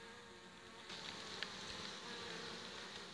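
Buckfast honey bees buzzing around a small mating nucleus hive, a continuous soft droning hum of many insects close by, steady and faint with no talking.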